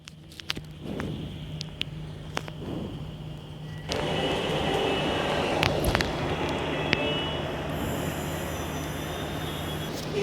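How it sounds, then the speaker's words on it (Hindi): A Kanpur Metro train pulls into Gurudev Chauraha station: a low steady rumble that swells midway into loud broadband rolling noise and holds there, with faint sparse clatter before it builds. "गुरुदेव चौराहा मेट्रो स्टेशन हमारा आ चुका है।"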